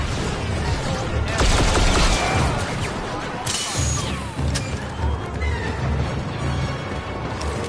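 Gunfire rattles from a video game firefight in a plaza, dense bursts of rapid shots and crashing impacts layered over a loud, chaotic battle din with a whinnying horse amid it.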